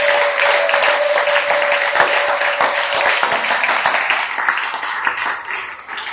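A church congregation bursts into sustained, dense applause at a worship service, loud and close at first and slowly thinning out toward the end.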